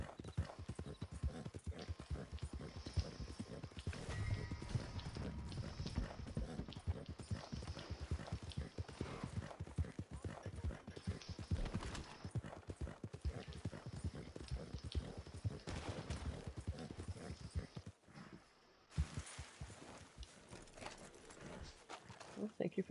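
Video-game horse hooves clip-clop in a steady, continuous rhythm while riding, near and prominent, with a voice talking over them at times and a brief lull near the end.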